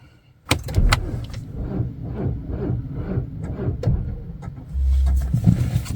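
A car with a weak battery cranks and struggles but fails to start in cold weather, a labored repeating starter churn lasting several seconds, close and loud, ending in a steady hum.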